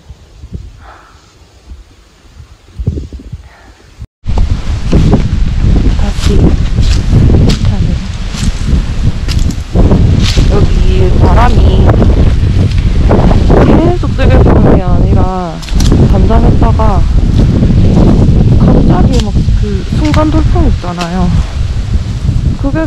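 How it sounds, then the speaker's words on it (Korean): Strong gusting wind roars on an empty mountain ridge during a backpacking trek in the Yeongnam Alps, loud and buffeting against the microphone after a brief quieter start, with tent fabric flapping and rustling through it. "진짜 바람 소리 부덜덜 합니다."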